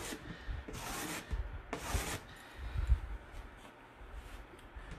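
A pointy-toothed scraping tool drags across layered paint, cutting back to the wood for a burlap-textured finish; a few rough rasping strokes sound close and dry with quieter gaps between them.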